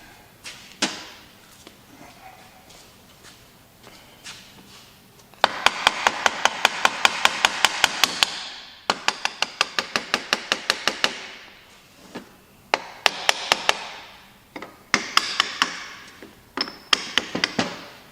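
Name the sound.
small hammer tapping out a part on a Massey Ferguson 4607M tractor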